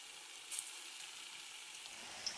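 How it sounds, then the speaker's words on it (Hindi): Dal vadas made from mixed lentils frying in oil over low heat give a faint, even hiss of gentle bubbling, with a couple of tiny soft pops and no talking. "वड़े को हमने लो हीट पे ही फ्राई करना है ताकि ये अंदर तक पक जाए"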